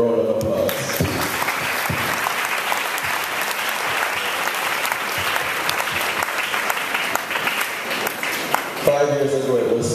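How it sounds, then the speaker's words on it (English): Loud, sustained applause from an auditorium audience, a thick continuous wash of clapping, with a voice speaking briefly at the start and again at the end. "Please, a round of applause."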